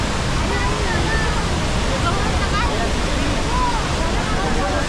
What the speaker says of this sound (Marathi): मित्रांनो, भयानक पाणी सुरू झालेलं आहे